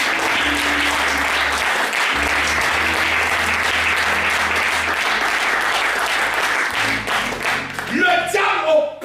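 A church congregation applauds and cheers loudly and continuously, dense clapping mixed with whoops and shouts, with voices rising near the end.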